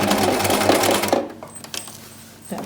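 Sewing machine back stitching on a wig, a steady loud mechanical whir lasting about a second, then quieter handling clicks and a short burst near the end.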